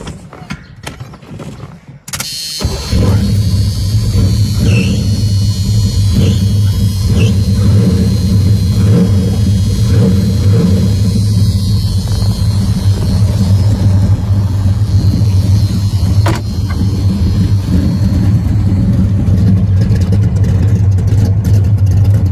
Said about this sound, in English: That's your factory exhaust sound that I have, or through the mufflers